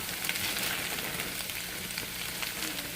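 Carrots, edamame and coleslaw mix hit a hot pan in a steady, loud sizzle and crackle of frying, continuous and close, with no voices.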